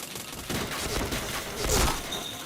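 Rapid gunfire crackles in an online first-person shooter game, with dense overlapping shots forming a continuous fusillade that swells louder near the end.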